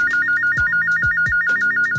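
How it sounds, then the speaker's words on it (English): A telephone rings with a loud electronic warbling tone that repeats steadily in quick pulses, punctuated by low thumps, with nobody talking. "the phone is ringing"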